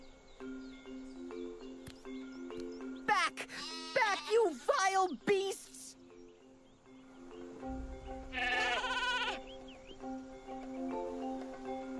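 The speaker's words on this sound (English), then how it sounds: "Honestly, Hugo, they're just sheep." Sheep bleat in a short cluster of overlapping wavering cries, loud and close, with a second bleating burst a few seconds later, over a steady melodic musical background and occasional chimes.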